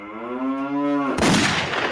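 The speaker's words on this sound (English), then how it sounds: "There's a cow." A single long, low moo from a cow drones steadily, then breaks off into a burst of rough broadband noise, loud and fairly close with no talking over it.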